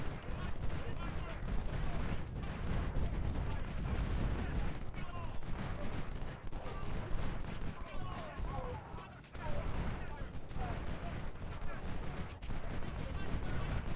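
Canister blasts from artillery and rifle volleys crackle in Ultimate General: Civil War during the Second Bull Run battle, forming a dense, continuous barrage of overlapping booms and pops at a steady loudness throughout.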